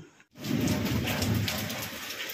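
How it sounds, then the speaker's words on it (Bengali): Heavy rain in a storm with a power cut outside, a dense steady roar of downpour that starts abruptly after a brief quiet moment and continues loud and unbroken. "দেখো প্রচণ্ড পরিমাণে ঝড় আর বৃষ্টি হচ্ছে"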